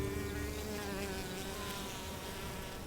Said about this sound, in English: a sweet temptation for bees that harvest it diligently among the labyrinth of pistils